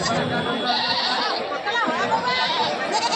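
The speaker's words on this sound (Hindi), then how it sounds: "ये बकरे दिखा रहे हैं आपको" Goats bleating amid the crowd at Babarpur goat market in Auraiya, Uttar Pradesh, a dense layer of overlapping calls mixed with steady chatter and people talking throughout.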